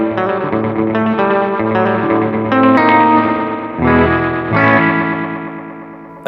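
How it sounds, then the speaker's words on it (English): Electric guitar runs through an EHX Deluxe Memory Man clone analog delay pedal with the feedback set high, so repeats pile up into a washy, smeared sustain with echoing trails, loud and continuous with no talking. "You can obviously turn the feedback up to almost continuous saturation."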